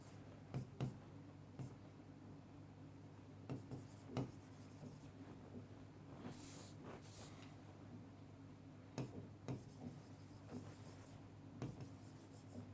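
Handwriting scratches along steadily during an explanation, soft strokes punctuated by intermittent tapping marks, quiet and close over a low background hum.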